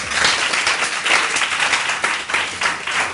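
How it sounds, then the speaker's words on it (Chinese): An audience at a Taipei meetup of two-minute self-introductions applauds to welcome a speaker named Jack to the stage, with steady, dense clapping that holds loud and continuous throughout, no voices standing out. "掌声欢迎 Jack。"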